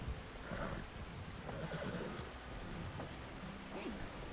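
A horse whinnies and snorts in the RedM roleplay game, with steady rain and a rumble of thunder around it and faint hoof clops, the neigh rising clearly a few times over the wet background.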